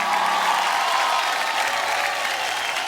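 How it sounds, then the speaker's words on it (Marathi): Dense, continuous applause from a studio audience at a women's game show, with the steady clapping of a large crowd held at an even, fairly loud level the whole time. "जोरदार टाळ्या होऊन जाऊ दे"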